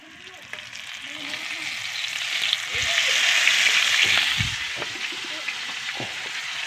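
Crab sizzling and frying in a pan over a wood fire outdoors after rain, a steady hiss that swells in the middle, with occasional stirring clinks and scrapes.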